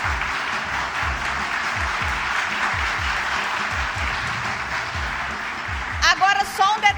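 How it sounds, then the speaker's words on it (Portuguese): Applause for the honorees at a Câmara Municipal ceremony in Juiz de Fora, MG, a steady clapping crowd heard over a low rhythmic hum, with a voice coming in near the end. "Uma salva de palmas para os homenageados."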